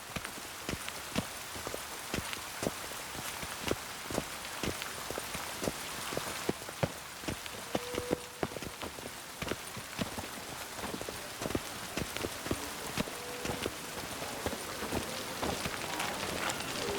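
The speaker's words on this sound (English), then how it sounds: "Rain. The one thing that's ploughing free in this city." Rain falling over a city in The Witcher 3, a constant patter of drops on surfaces with scattered sharper knocks, like hooves or dripping, steady and moderately near throughout.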